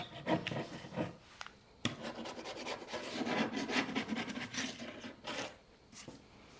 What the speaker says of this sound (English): I think it might be time for the sander.